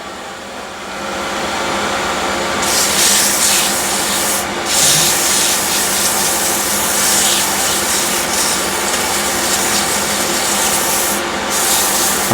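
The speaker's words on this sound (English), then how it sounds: "It's faster sanding rather than starting with 180" Steady, rasping strokes of sandpaper rubbing on wood, close and loud, continuing without pause for several seconds, while hollowing out a wooden piece.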